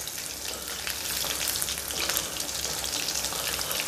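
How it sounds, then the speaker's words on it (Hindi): Green chicken kebabs fry in a pan, giving a steady, close crackling sizzle that holds evenly throughout with no talking. "2 मिनट से एक साइड से फ्राई करके फिर उसको पलट देंगे"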